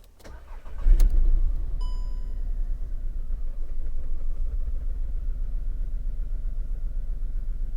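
A car with an engine misfire cranks and starts after a brief whir, then settles into a loud, close idle with a steady low rumble and a slightly uneven pulse.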